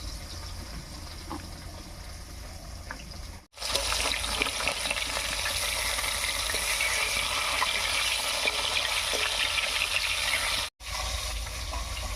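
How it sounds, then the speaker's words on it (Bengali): Pieces of rohu fish fry in hot mustard oil in a wok, a loud, continuous close-up sizzle and crackle broken by two very brief silent cuts. "মাছগুলো ভাজা হতে থাক"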